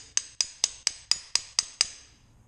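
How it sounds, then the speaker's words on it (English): A hammer strikes metal eight times in an even, quick rhythm, tapping a roller out of a Kingquad ATV's CVT, each tap bright and ringing, close and alone with no talking. "now you'll find a hammer, small one or large one"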